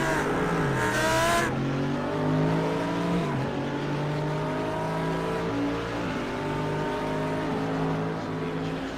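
A race car in the iRacing video game at Montreal brakes hard, its engine note dropping sharply as revs fall, with tire squeal, then continued loud engine drone with further downshifts.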